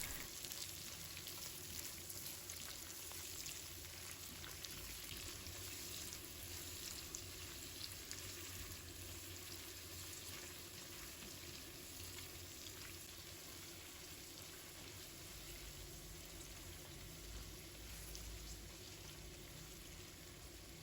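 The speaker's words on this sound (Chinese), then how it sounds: "再把蒜苗和红辣椒放入锅中，继续翻炒均匀，把它们炒至断生" Pork belly stir-fried with garlic sprouts and red chili in a wok over high heat, a dense, even sizzle and hiss running steadily and quietly for the whole stretch, with no voices.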